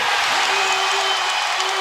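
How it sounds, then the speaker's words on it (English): Basketball arena crowd of Dallas Mavericks fans cheering and yelling at the NBA Finals, a dense, loud, continuous roar filling the space, with no distinct voices standing out. "this crowd for the last half hour have been on its feet, cheering and yelling"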